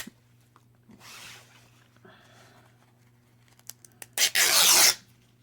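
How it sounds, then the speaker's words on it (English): Red fabric is torn by hand into strips for a tattered rag Christmas ornament. Faint rustling and handling lead up to one loud, close ripping tear lasting under a second near the end. "Then you just rip them."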